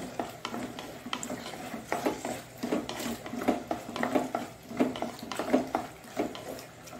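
A spoon stirs prawns in a pan after salt is added, for a Tulunadu-style prawn pulimunchi. Repeated soft scraping strokes come close up in a steady rhythm over a quiet background, with no talking.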